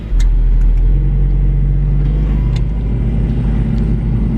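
A 1991 Mazda Miata engine idling high with a steady, close, loud low hum and faint clicks above it.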